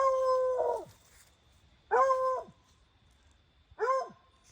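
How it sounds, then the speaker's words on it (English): Dogs howl in the distance in three separate drawn-out wails spaced a couple of seconds apart, each sliding downward at the end, with quiet outdoor background between them. "there's other dogs in the distance"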